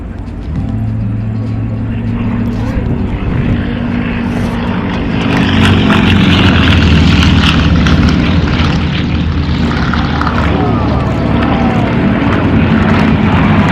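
New Zealand Yak formation aerobatic team of propeller aircraft flying a display at the Omaka Airshow, loud droning radial engines swelling as the planes pass close, a continuous roar with no talk.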